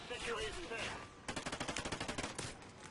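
Automatic fire from a Vepr rifle in a video game, a rapid string of about fifteen evenly spaced loud shots following a stretch of dense noisy action.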